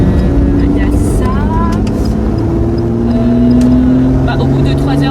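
Lotus Exige 430 Cup Stage 1 with a full titanium exhaust and 500 horsepower, its engine droning loud and steady from inside the cabin, the pitch slowly climbing while people talk over it.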